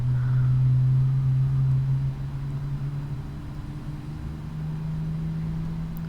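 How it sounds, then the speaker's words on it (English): Boeing 777 engines in a flight simulator game produce a steady low drone on the ground, its tone dropping slightly partway through before settling, heard alone without talk. "Lovely engine sounds."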